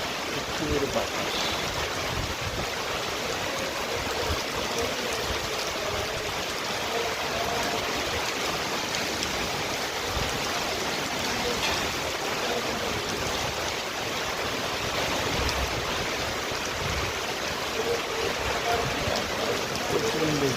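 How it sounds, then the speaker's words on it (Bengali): Torrential rain pours without letup during a windy storm, forming a thick, even, rushing wash of noise that fills all twenty seconds. Faint voices may sit under it. "প্রচন্ড বৃষ্টি হইতেছে, বৃষ্টি আর বৃষ্টি"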